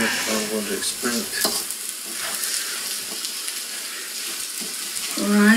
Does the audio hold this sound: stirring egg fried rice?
yes